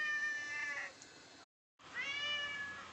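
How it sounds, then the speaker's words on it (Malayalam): A house cat meows twice in reply to being spoken to, two clear drawn-out calls separated by a short silence, close and fairly quiet. "പൂച്ച നമ്മൾ ചോദിക്കുന്നതിന് പ്രതികരിക്കുന്നു."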